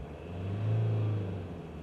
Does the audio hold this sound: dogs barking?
no